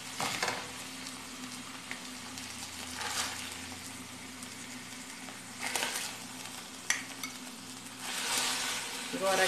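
Liver browned on both sides fries in a pan, giving a steady close sizzle with occasional louder crackles and stirring bursts, no talk.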